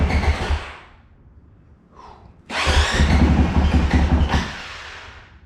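A cold Honda CRF 450L motorcycle, started without the choke, cranks with a loud rough rumble, pauses briefly, then catches and runs loud and close for about two seconds before dropping off.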